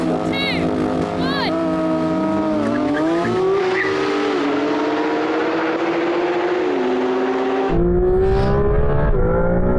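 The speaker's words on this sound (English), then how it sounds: "We decided to switch cars to see if I could make Tommy's Porsche go any quicker" A Porsche GT3 RS and a Maserati MC20 accelerate hard side by side, loud engine notes climbing steadily through the gears with gear-change dips and a brief tire squeal, then the revs drop and surge again near the end.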